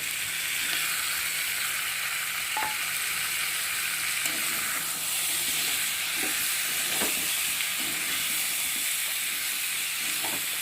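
Malabar spinach and mixed vegetables fry in a pan, a steady close sizzle with occasional soft scrapes and clinks from stirring, with no talking.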